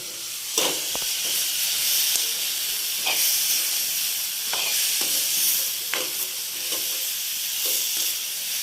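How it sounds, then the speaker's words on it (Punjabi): Onion masala loosened with a splash of water and stirred in a pan for an onion curry, a loud steady hissing sizzle broken by repeated scraping strokes of the spoon. "ਹਲਕਾ ਜਿਹਾ ਆਪਾਂ ਪਾਣੀ ਪਾਇਆ ਜੀ ਆਪਣਾ ਮਸਾਲਾ ਥੱਲੇ ਨਾ ਲੱਗੇ ਇਸ ਤਰ੍ਹਾਂ ਕਰਕੇ ਆਪਾਂ ਇਹਨੂੰ ਹਿਲਾ ਲਾਂਗੇ"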